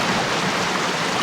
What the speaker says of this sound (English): Oh, you can float down a river now.